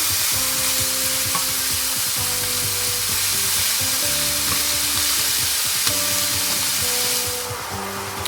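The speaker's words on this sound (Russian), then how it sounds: "Еще буквально пару минуточек мы все это обжарим" A pan of meat and mushroom filling sizzles and fries steadily, a loud, crackling hiss with occasional stirring clatter, no talking.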